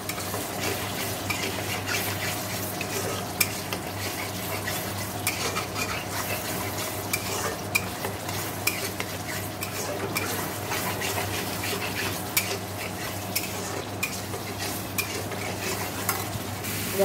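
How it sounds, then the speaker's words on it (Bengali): Spice paste frying in oil in a home kitchen pan while being stirred, a steady close sizzle with scraping stir strokes throughout, no talk. "ভালো করে মশলাটা কষিয়ে নেব"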